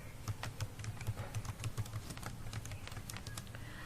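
Someone types on a computer keyboard in a word processor, producing a soft, steady patter of key clicks that is fairly fast and even, close by and quiet, with no voices.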